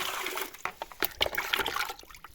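Water pours out of a container for mixing garden fertilizer for hydrangeas, a continuous close splashing rush with uneven gurgling surges throughout, with no voices.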